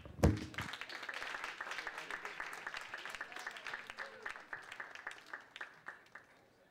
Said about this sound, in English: Okay, clap. Now.